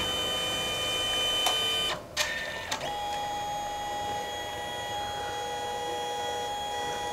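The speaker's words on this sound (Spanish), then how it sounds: "Está imprimiendo primero en amarillo." A Canon Selphy CP1300 dye-sublimation photo printer at work, laying down its yellow pass with a steady mechanical whir and hum, a few brief clicks and a short mechanical shift partway through, heard alone at moderate level.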